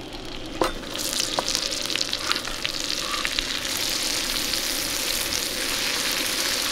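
Onions sizzle in butter in a pan at a camp stove, a loud, dense crackle that swells and holds steady, with a few spoon scrapes early on and no voices.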